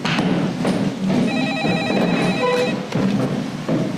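A telephone rings in a quiet room, its electronic bell repeating in a steady pattern of short trills, fairly close and clear with a low background hum.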